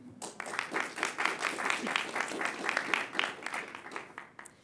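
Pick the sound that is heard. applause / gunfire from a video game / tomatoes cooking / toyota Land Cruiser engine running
applause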